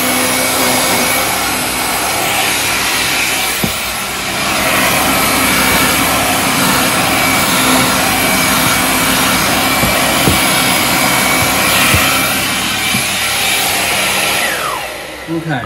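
A Jimmy JV35 anti-mite bed vacuum cleaner runs steadily on a pet bed, its loud, close motor roar and suction whoosh holding throughout with faint bumps and shifts as it is swiped across the fabric.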